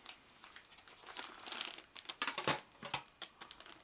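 Quiet crinkling and rustling of plastic packaging as a Hasbro Battleship Grab & Go game's pack of toy ships is opened, in short irregular bursts with no talking.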